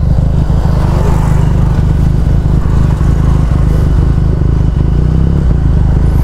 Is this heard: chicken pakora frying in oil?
no